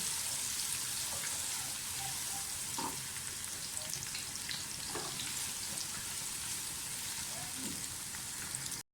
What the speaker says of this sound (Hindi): प्याज को अच्छी तरह से फ्राई करें, गोल्डन ब्राउन होने चाहिए